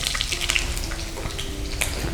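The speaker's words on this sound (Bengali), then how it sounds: "এই ক্যাপসিকামটা আমি এই তেলটার মধ্যে দিয়ে দিচ্ছি" Capsicum pieces frying in hot oil in a home kitchen pan, a steady soft sizzle and hiss with a faint hum and a few small clicks, no voices.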